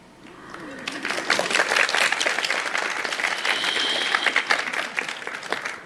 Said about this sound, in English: You're applauding just for that